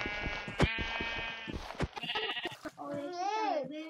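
Sheep bleat in the Minecraft video game, a wavering cry near the end after clicks and game effects, while excited voices talk and shout over much of the clip.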